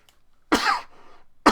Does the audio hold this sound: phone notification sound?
no